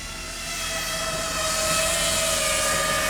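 A drone hovers and flies while towing a load outdoors, giving a steady high-pitched motor whine that swells slightly louder and holds even throughout, with no talking.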